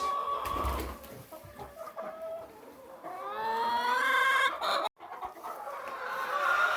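Hens cluck and murmur in a coop's nesting boxes on a farm in the morning, close and fairly loud, with rising drawn-out clucking calls and brief rustles.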